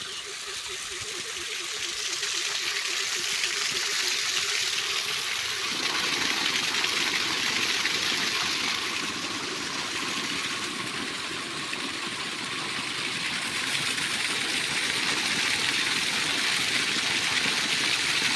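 A water pump motor running at a farm well hums steadily while water gushes and flows nearby, continuous and fairly loud throughout.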